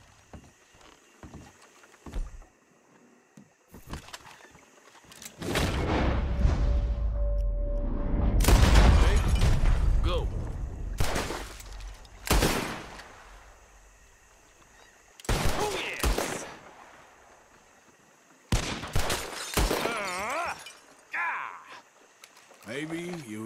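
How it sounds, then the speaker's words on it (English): Bursts of gunfire ring out in a Red Dead Redemption 2 bottle-shooting contest, several sharp reports scattered across the stretch with a denser volley in the middle, mixed with game ambience and spoken dialogue. "Whoever shoots the most bottles wins, okay?"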